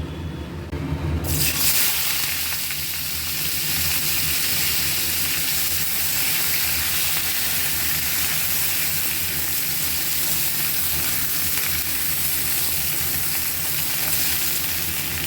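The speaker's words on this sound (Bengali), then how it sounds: "এবারে ফুলকপি আর আলুগুলো ভেজে নেব" Cauliflower and potatoes fry in oil left from frying fish, starting with a sudden loud sizzle that settles into a steady, dense crackling hiss close by.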